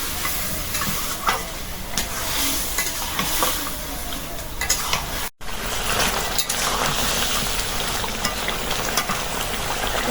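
Mutton being stirred and sautéed with spice masala in a pot, a loud continuous sizzle broken by repeated scraping strokes of a spoon, close up and without talk.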